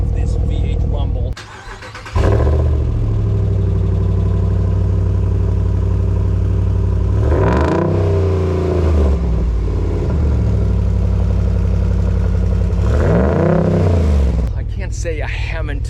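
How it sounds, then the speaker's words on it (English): A black RAM 1500 Rebel pickup with a V8 engine starts up and idles with a deep rumble, then revs sharply twice, loud and close. "I just love this V8 rumble"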